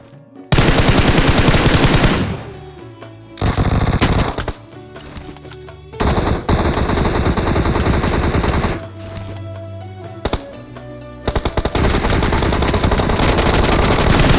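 Repeated bursts of automatic gunfire from a PUBG Mobile firefight, loud and close, coming in several long volleys separated by brief lulls, with no talking over it.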